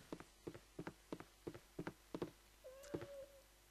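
A cat meows in the video game Baldur's Gate Enhanced Edition, a single drawn-out meow near the end, preceded by a steady series of soft rhythmic thumping steps.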